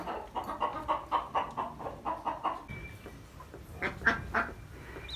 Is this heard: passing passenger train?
no